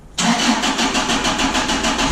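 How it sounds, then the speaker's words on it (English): A HOELUX car engine fires up after a new fuel pump is fitted, catching abruptly and then settling into a loud, steady idle with an even pulsing rhythm close by. "As you can hear, the HOELUX is back up and running."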